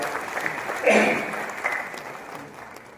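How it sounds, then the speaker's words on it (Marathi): Audience at a one-day conference and awards ceremony breaks into a short burst of hand clapping to welcome the BJP state vice-president, swelling then fading over a few seconds. "याबद्दल आपण एकदा टाळ्या वाजवून स्वागत करूया"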